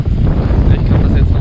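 Wind gusts across a camper's thermal insulation mat outdoors, a loud, steady roaring buffet with heavy low rumble pressing on the microphone, mixed with a person speaking.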